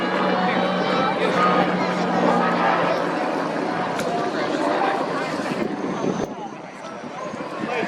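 The Red Stars formation flies in for its arrival sequence on runway 05 at the Wings Over Waukegan airshow. A loud, steady roar of aircraft engines fills the whole stretch, with crowd murmur and faint talk underneath.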